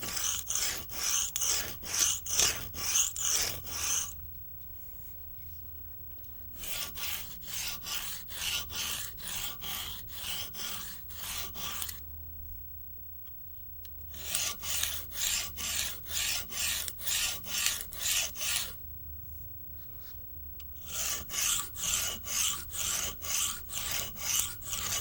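A knife blade scraped back and forth across a rough cinder block to sharpen it, a loud rhythmic rasping stroke after stroke in several long runs separated by short pauses.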